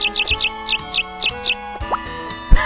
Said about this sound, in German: Vögel stehen im Weg.